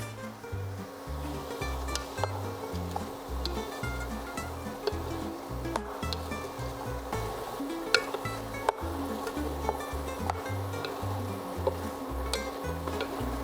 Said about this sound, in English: so we're gonna throw in our cauliflower